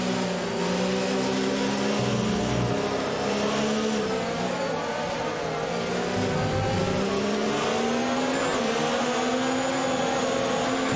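Formula 1 race car engine from the F1 2019 video game at the Shanghai International circuit, a steady high-pitched drone with slight pitch swells, loud and continuous throughout with no speech.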